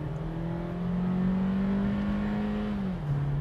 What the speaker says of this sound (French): la voiture a eu un mini lag au départ, mais après c'est parti tout seul